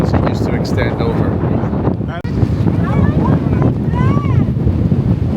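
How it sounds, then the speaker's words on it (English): Strong wind at Capelinhos on Faial in the Azores buffets the microphone in heavy continuous gusts, with faint voices and birdlike whistles in the background. "You can see just how windy it is."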